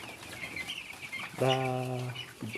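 Kenbro chickens, a red-feathered broiler breed raised in Kenya, give one drawn-out cluck followed by a short second call, close by over faint background bird chatter.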